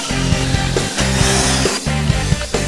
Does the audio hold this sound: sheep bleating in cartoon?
no